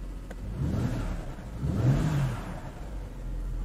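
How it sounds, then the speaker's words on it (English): A BMW wagon's turbocharged car engine revs up and whirs, swelling to a peak midway and then easing, fairly close and moderately loud, with no talking. "It makes turbo noises."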